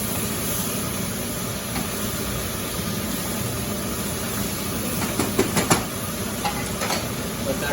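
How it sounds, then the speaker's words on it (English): Beef being folded and mixed back into other ingredients in a wok during a stir-fry, a steady broad hiss of frying with a few brief clatters of utensil on metal near the end, no talking. "Now we add the meat back in. Okay, start to fold and mix."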